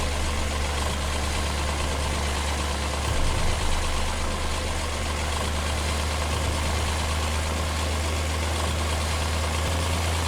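A John Deere tractor engine in Farming Simulator 2017, labouring slowly up a hill on the Sandy Bay map, gives a steady, loud, low diesel drone that holds constant throughout with one brief swell and no talking.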